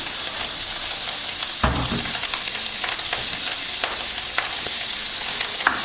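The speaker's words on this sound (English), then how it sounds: "Just a handful of bacon you need there, and one Italian sausage or a pepperoni or something. That's just cooking away now on a very high heat." Bacon and an Italian sausage frying in a pan over very high heat, giving a loud, continuous sizzle and hiss with occasional sharper pops and crackles throughout.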